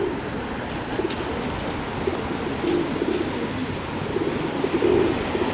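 Wood pigeons cooing outdoors in wet weather, soft repeated coos rising over a steady rushing background hiss, moderately close and continuous.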